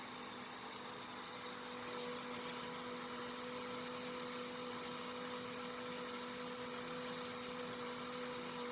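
Small electric motors of a student-built IoT project run with a steady, even hum and faint mechanical whine, holding constant throughout without pauses.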